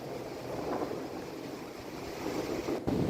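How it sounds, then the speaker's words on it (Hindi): Roaring floodwater surging during a cloudburst in Jammu and Kashmir, a steady, dense rushing wash of water that swells slightly toward the end, with no voices over it. "जो लहरों की आवाज आ रही है"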